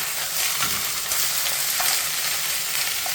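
Beef pieces sizzle and fry steadily in a hot pan for a stew, a dense, continuous crackle with occasional stirring, loud and close with no talking.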